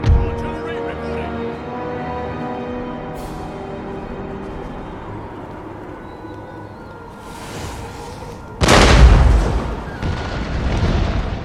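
Artillery fire in the strategy game Empire: Total War: a battlefield soundscape with a distant boom early on, then a sharp loud cannon blast near the end followed by rumbling reports, under intermittent voices.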